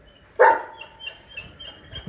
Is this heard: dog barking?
yes